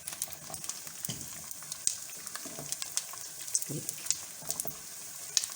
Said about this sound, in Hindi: अच्छी तरह से फ्राई करनी है, देखिए, ताकि ये क्रिस्पी हो जाए।